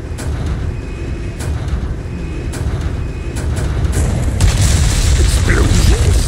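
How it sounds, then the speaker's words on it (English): Explosions from the Resident Evil 4 Remake video game, a sustained loud boom and rumble across the whole stretch that swells and grows denser toward the end, with no talking over it. "Explosions."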